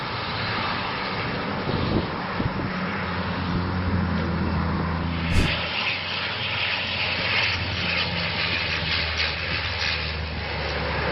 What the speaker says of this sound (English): This firefighting plane is working on extinguishing a forest fire in Croatia